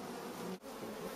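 Honey bees swarm with a dense, steady buzz at an opened hive, close and loud, with one brief dip in the middle.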